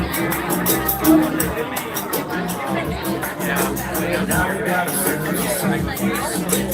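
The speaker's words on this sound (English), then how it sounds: "There's a large crowd here, y'all." A large crowd chatters at an indoor campaign event for Tulsi Gabbard in Lebanon, New Hampshire, a steady dense babble of many voices with some nearer speech rising above it.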